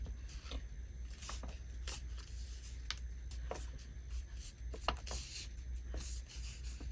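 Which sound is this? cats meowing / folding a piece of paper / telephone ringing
folding a piece of paper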